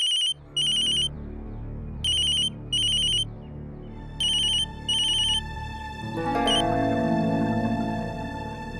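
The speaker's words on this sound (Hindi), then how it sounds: "फोन क्यों नहीं उठा रही?" A phone ringtone chimes in repeated short bursts with pauses between, then gives way to a louder sustained melodic tone.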